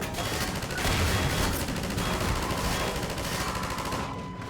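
Mounted turret in Half-Life 2 firing a sustained, loud burst of rapid automatic shots, a steady dense rattle lasting several seconds before easing slightly at the end.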